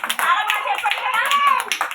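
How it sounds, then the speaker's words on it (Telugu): Young children at an anganwadi clap together in applause, a quick, uneven patter of small hands mixed with the voices of people talking nearby. "క్లాప్స్ కొట్టండి అందరూ"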